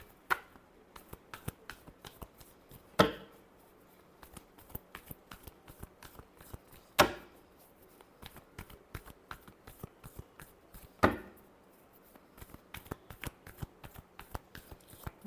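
Tarot cards shuffled by hand in repeated quick riffles and taps, with a few sharper louder snaps of the deck, close and crisp against a quiet background with no talk.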